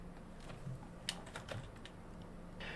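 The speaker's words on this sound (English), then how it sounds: "Use mouse and keyboard for everything, need all those hotkeys." A computer keyboard is typed on in quick, irregular clicks during a Witcher 3 editing stream, quiet and close, with one sharper keystroke standing out.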